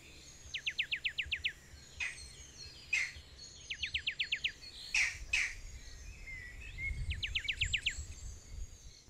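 Wild birds at a game reserve give three clear bursts of rapid, evenly spaced trilling notes, with a few sharper single calls between them over a soft outdoor background hum.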